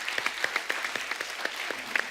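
A studio audience on a comedy talk show claps for the team of the film Thappad, a short burst of fairly light, irregular applause with individual claps standing out.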